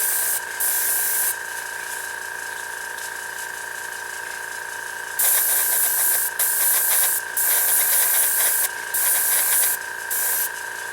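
A Badger Minitaire airbrush sprays paint onto a scale model, a loud close hiss running in repeated bursts of a second or two with brief gaps between them.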